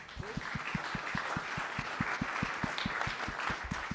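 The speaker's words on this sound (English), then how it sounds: "Give that man a round of applause." Steady applause from a crowd, dense rapid clapping filling the whole stretch at an even loudness, no voices over it.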